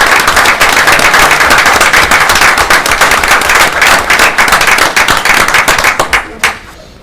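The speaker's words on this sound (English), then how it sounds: "So we're going to have another round of applause for Aunt Jewel and her" A loud, close round of applause for Aunt Jewel at a borough council meeting, dense rapid clapping sustained for several seconds before thinning into a few last claps near the end.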